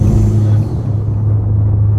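Steady, deep engine and intake roar from inside a Ford Puma ST driven with the windows up, a loud, low drone that holds constant for the whole stretch.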